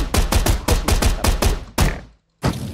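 Gunshots in a Minecraft shooting game, a rapid run of loud, close, evenly spaced shots, then a single shot, a brief silence and one more burst.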